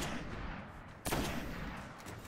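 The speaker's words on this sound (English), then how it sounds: "Those headshots with a sniper do so much damage." Sniper rifle fire in the video game Destiny, heard as a dense, loud burst of gunfire and explosions with a sharp shot standing out in the middle, and no talking.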